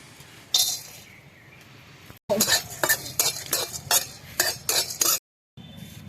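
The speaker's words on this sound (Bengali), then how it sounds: "কড়াইতে প্রথমে দিয়ে দেবো যে গোটা গরম মশলা" Whole garam masala dry-roasts in a hot wok under a utensil that scrapes and stirs in quick, repeated strokes with light clinks. The near, loud stirring bursts are broken by two brief silent gaps.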